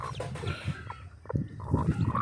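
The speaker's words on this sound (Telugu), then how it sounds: "ఇంటికి వచ్చాక కోడిపెట్ట పిల్లల్ని ఎన్ని చేసిందని చూస్తే పది పిల్లల్ని చేసింది ఫ్రెండ్స్" A hen with ten newly hatched chicks clucks at home in soft, low, irregular calls, with a few brighter chirps mixed in at close range.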